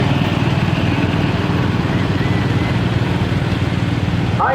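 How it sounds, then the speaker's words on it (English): Engine of a 1939 John Deere Model BO tractor rolling past at a tractor parade, a loud, steady low rumble that holds constant throughout without a break. "1939 Model BO John Deere, driven by Logan Osborne, owned by Joe Wells from Fayetteville, Ohio"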